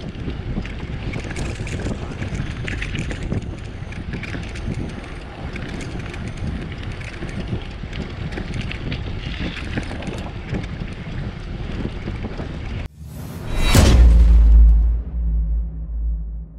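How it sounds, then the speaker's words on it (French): Steady roaring wind buffets the microphone of a rider cycling a long road trip, loud and continuous, then cuts out abruptly near the end, leaving quieter background. "le bruit du vent"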